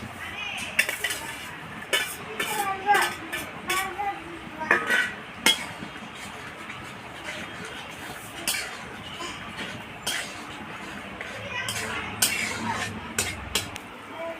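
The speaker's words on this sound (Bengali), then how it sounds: "এবার আমি ভেজে রাখা মাছগুলো দিয়ে দেবো" Fried morola fish are added to a pot of boiled potatoes, with scattered clinks and scrapes of utensil against metal cookware alongside a person talking.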